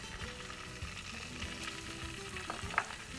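Curry leaves fry in hot oil as tempering for a vegetable biryani, giving a soft, continuous sizzle and crackle with faint stirring, heard alone without talk.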